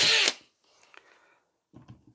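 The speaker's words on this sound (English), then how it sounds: "I'm using a 3mm drill bit." A small power drill with a 3mm bit bores a hole while wire fencing is made for an OO gauge model railway, giving a short loud whine at the start and then quieter scraping and handling noises.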